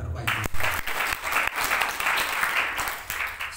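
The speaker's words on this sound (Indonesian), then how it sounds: "Beri tepuk tangan terbaik" A church congregation bursts into applause during a sermon, a dense burst of clapping that builds and holds steadily for a few seconds, with some crowd voices mixed in.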